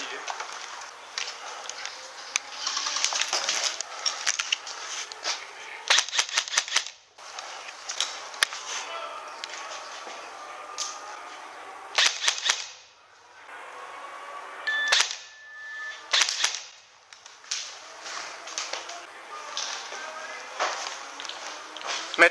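Airsoft guns fire during a match, with sharp clicking shots in quick bursts and scattered single cracks, near and far, mixed with footsteps and rustling while voices talk.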